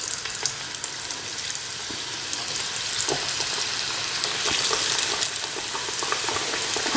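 Rghaif pastries frying in a bath of hot oil, a steady bubbling sizzle with small crackles and pops close by, no voices.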